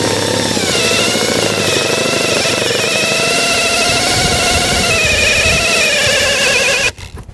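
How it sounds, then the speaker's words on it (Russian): LYUOWO LW CZ20 impact driver drilling into a brake pad: loud, continuous grinding hammering whine for about seven seconds, then it cuts out abruptly near the end. "Так, будем пробовать сверлить колодку."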